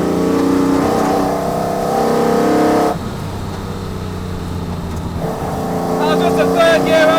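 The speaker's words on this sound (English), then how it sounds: "Just a third gear overtake, and now we can give it some power." A 1960s Le Mans Jaguar's engine roars close up under load as it accelerates through a third-gear overtake on a road, easing briefly before building again, with a voice talking over it.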